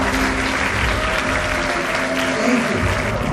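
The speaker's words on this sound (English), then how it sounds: "Please give them a warm round of applause." An audience gives a warm round of applause for a board of trustees and staff, steady clapping throughout with faint voices underneath.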